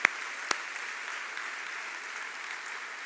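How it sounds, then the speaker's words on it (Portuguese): A church congregation applauds Jesus during a sermon, a brief, soft scattering of claps heard from a distance, with two sharper claps near the start before it fades to a faint murmur. "Vamos dar uma salva de palmas para Jesus?"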